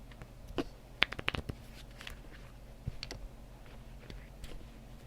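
A small tarot card deck is shuffled by hand, giving light papery flicks and clicks in short irregular bursts, close and fairly quiet, with no talking.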